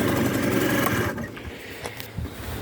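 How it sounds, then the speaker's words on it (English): A Kymco Agility RS 50cc scooter engine, being run in, revs loudly up close, then the pitch drops off as it settles back toward a quieter idle. "And we're revving up."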